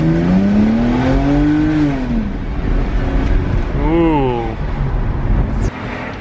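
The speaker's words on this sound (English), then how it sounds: "If you want to make your exhaust, oh, a little bit louder, just drill some holes into it." A car exhaust with holes drilled before the muffler is revved in neutral, giving two rising and falling engine sweeps, loud and close, with a raspy drone between them.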